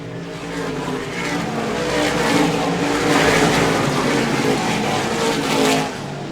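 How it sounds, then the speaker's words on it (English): Race cars at the Carteret Clash roaring past in a tight pack on track, a loud continuous engine drone that swells and fades as they pass, no talk over it. "cars that pitted, Danny Bone, Ryan Newman, they are in a huge gaggle of race cars."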